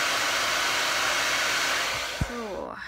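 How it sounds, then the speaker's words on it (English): A hair dryer blows with a loud, steady close whoosh that winds down near the end, alone without talk. "I got my blow dryer."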